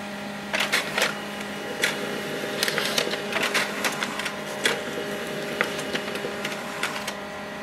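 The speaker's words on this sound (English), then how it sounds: "Wait for the printer to print a page." An HP LaserJet M139we laser printer whirs steadily while feeding a page, with irregular clicks and clacks of its mechanism throughout; close up, no voices.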